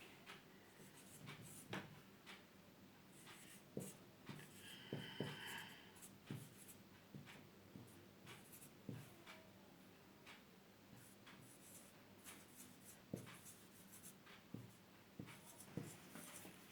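A teacher writing on a board during a school lesson: irregular taps and short scratchy strokes of chalk or marker, close and fairly quiet, with no talk.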